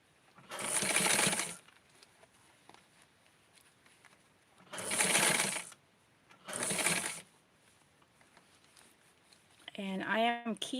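A sewing machine stitches stretchy fabric for a Barbie doll dress in three separate loud, close whirring runs with quiet pauses between them, followed by a short spoken remark at the end.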